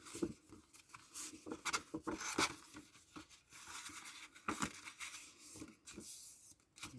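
Paper pages being scored along fold lines for a handmade baby album, giving close, dry scraping and rubbing strokes in short irregular bursts, fairly quiet with no talk.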